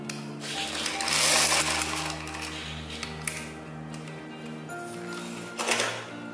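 Sewing machine stitching elastic onto a gathered skirt, a steady mechanical whir that runs loud and close, eases off, then picks up again near the end.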